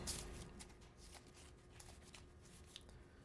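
A HeroQuest skeleton archer stat card slid out of a card deck, a soft quiet papery shuffle and rustle close by, no voices.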